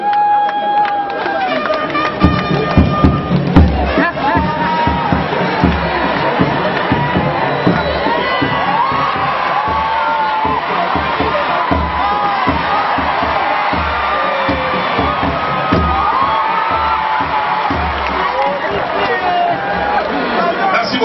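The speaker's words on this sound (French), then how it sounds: "sous nos applaudissements" A festival audience in a TV studio setting roars with cheering, shouts and whoops, with some clapping, for a full stretch, loud and crowded, while an announcer's voice carries over the noise.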